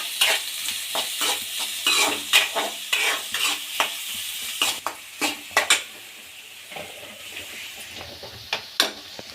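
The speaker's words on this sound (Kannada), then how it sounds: "ಸಣ್ಣ ಕಟ್ ಮಾಡಿ ಎಣ್ಣೆಗೆ ಹಾಕಿ ಗೋಲ್ಡನ್ ಬ್ರೌನ್ ಆಗೋವರೆಗೂ ಹುರ್ಕೊಳ್ಳಿ" Finely chopped onions cook in hot oil with a steady sizzle, broken by repeated sharp scrapes and clinks of a spatula against the pan. The stirring quiets partway through, leaving a few scattered knocks.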